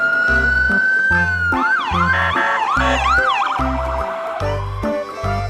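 A toy ambulance blares a loud electronic wailing siren that rises and warbles, playing over a pulsing, beat-like tone pattern for several seconds, close and alone.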